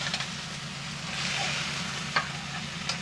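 Food browns in a hot pan with a continuous close sizzle and a few louder pops and spatters against a low background hum. No voices over it.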